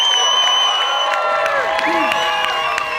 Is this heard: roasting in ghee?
no